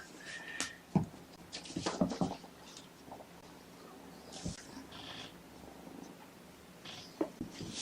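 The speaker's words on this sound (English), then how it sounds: "as soon as I interact with Pickles, he just starts purring up a storm" A cat purrs softly up close, a low continuous rumble broken by scattered rustling bumps and brief snuffly noises.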